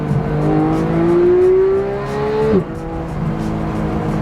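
A 991 Porsche GT3 engine revs up with a rising pitch, then drops sharply as it shifts gear and pulls on again, loud and close.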